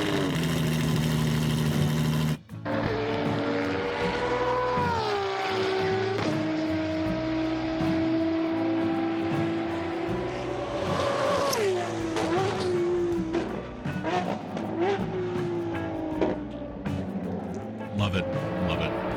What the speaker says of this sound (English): enjoy the sweet, sweet sounds of that V12